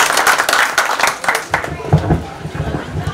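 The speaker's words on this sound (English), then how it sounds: "give a big round of applause." Applause from guests at a restaurant get-together party on Long Island, a dense burst of clapping that fills the short moment and then thins into scattered claps as voices carry on beneath.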